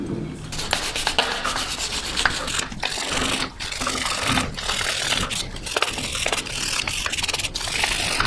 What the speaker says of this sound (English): Have to do a little bit more manual scraping. It is aluminum, so you have to be careful